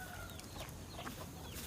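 Chickens cluck softly and intermittently in the background, faint farmyard calls over a steady low ambient hum.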